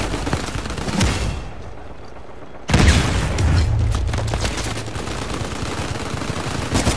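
Rapid automatic gunfire and booms from an Uncharted 4 multiplayer match, dense and loud throughout, with a heavier burst midway and continuous chaotic shooting.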